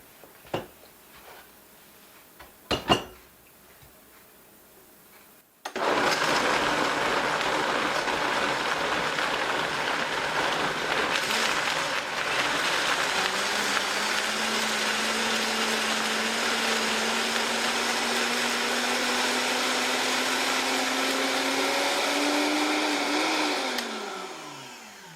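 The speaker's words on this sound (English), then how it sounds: "Now I'm going to blend all that." A countertop blender blending vegetables for homemade BBQ sauce starts abruptly after a few faint knocks, then roars loudly and steadily for nearly twenty seconds, its pitch rising slowly as the mixture smooths, before cutting off.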